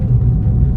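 A car cruises at moderate speed along an empty road at night, with a steady, close, low engine and road rumble and no other sounds.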